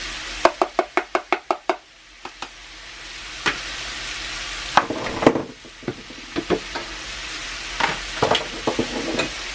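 Garlic sizzles in a cast iron pan while chicken burrito ingredients are cooked, opening with a quick run of sharp clacks and followed by scattered knocks and scraping over a steady hiss, all close by.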